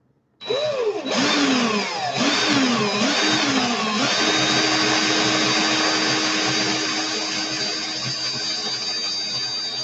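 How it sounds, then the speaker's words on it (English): A power drill twisting thin wire into coils starts abruptly, its pitch sweeping up and down a few times before settling into a loud, steady high-speed whine. "I'm gonna speed up this drill."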